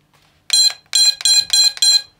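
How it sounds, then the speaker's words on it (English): Five loud, high-pitched electronic beeps from the buzzer of a Diatone Roma F5 drone in a quick, slightly uneven series, close by and alone with no talking. "There's the buzzer working."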